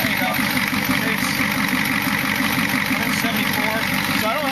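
An old non-turbo diesel engine idling while running on hydrogen, a steady loud rumble holding level throughout with no change in pace.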